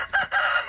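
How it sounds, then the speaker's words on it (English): A rooster crows once, up close and loud, a brief two-part call with a strained, sustained tail. "we've got the area patrolled by attack rooster"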